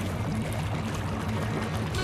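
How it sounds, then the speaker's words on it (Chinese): Water drains steadily down a drain in an animated cartoon, a continuous gurgling pour with a pulsing, swirling low rhythm, heard on its own at moderate loudness. "那里水一定是从那个排水口下去的"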